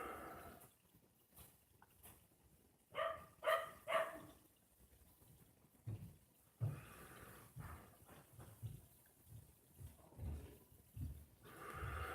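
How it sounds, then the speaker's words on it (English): A small dog barking outdoors at a distance, several short sharp barks in a cluster followed by scattered fainter yaps over a quiet background. "The neighbor's little dog is out barking."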